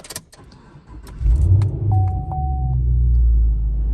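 A 2014 Chevrolet Camaro SS V8 cranks and fires with a deep rumble after a few clicks and key jingles, a short chime sounding, then settles into a steady, close idle.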